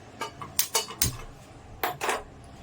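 Metal cookware clanks and clinks in a few quick knocks, an idli steamer pot set down with a brief metallic thud, fairly quiet and close.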